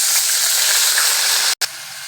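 Water poured into a pan of hot oil frying green chillies and black cumin bursts into a loud, steady hiss of steam and sizzle, cutting off abruptly near the end.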